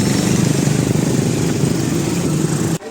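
A motorized becak pedicab on a Yogyakarta street runs with a loud, steady buzzing engine drone up close, then cuts off abruptly near the end.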